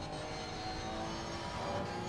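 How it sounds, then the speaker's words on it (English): A Porsche GT3 Cup race car engine idles in a racing simulator at the Hungaroring, heard from the in-car view as a faint, steady low drone with no talking. "I've got the engine running."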